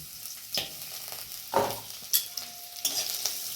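Chopped onion drops into hot oil tempered with five-spice and a dried chilli, a soft frying hiss broken by several sharp spatula scrapes and stirring knocks, close by with no talking.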